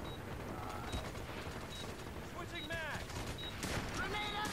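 Rapid bursts of gunfire in the online military shooter MAG, loud and dense through the whole stretch, mixed with game effects and a voice speaking over the shooting.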